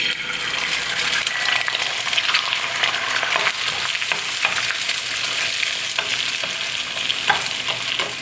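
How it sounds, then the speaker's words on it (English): Two eggs crackle and spit in hot oil in a pan, a dense, loud, continuous sizzle close by with occasional sharper pops and scraping, no voices. "The pan and the oil is all hot. I'm gonna go ahead and put in my 2 eggs."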